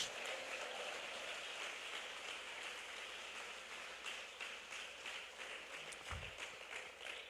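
A church congregation applauding, a dense, even clatter of many hands clapping in a reverberant hall that holds steady for several seconds, then thins slightly near the end.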